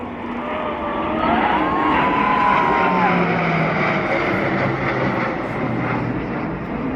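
Military jets, including Sukhoi Su-30s, fly past in formation over a Republic Day parade in New Delhi. They make a loud, sustained roar that swells and holds, with a voice speaking underneath.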